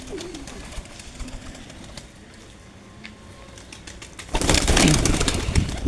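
Fulsira Kaldum pigeons cooing softly in an evening loft setting, faint low coos against background noise, followed near the end by a louder broadband rush like a passing engine.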